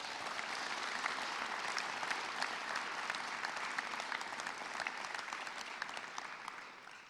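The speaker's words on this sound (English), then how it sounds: "Students, can you please give your parents a great round of applause?" Graduation crowd applauding parents at a 2021 high school ceremony, dense steady clapping from a large audience filling the whole stretch without letup, easing slightly at the end.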